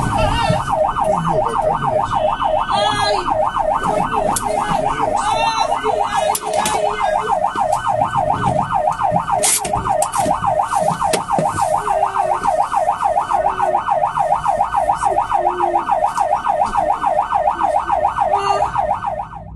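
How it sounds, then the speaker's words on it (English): An ambulance in Vladivostok, Russia wails with a loud, rapid, rhythmically cycling siren that continues steadily throughout, over traffic noise and scattered clanks. "This was evidently an ambulance in Vladivostok, Russia."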